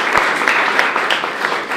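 Steady clapping from an audience at a talk on desert farming research, a dense patter of many hands, moderately loud and continuous for a couple of seconds.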